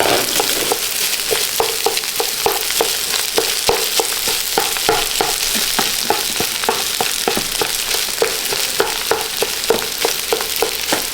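Eggs being stirred in a hot frying pan, with a loud, close sizzle and a steady run of regular spatula scrapes and taps across the whole stretch.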